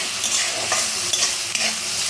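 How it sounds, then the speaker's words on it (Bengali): Chopped large onion frying in oil in a pan gives a steady, close sizzle with scraping stirs of a spatula throughout, and no voices. "আমি পেঁয়াজটাকে তেলের সঙ্গে ভেজে নিচ্ছি"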